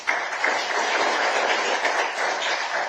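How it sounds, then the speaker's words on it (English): Audience applause at the African Children Climate Summit in Addis Ababa, a dense, steady wash of clapping filling the room at close range, loud and continuous throughout. "Another very, very big round of applause."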